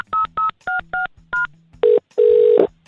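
Telephone keypad tones as a number is dialed: five short, evenly spaced beeps, then two longer steady tones, crisp and loud with no voices.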